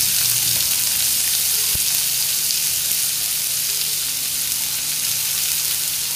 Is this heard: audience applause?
no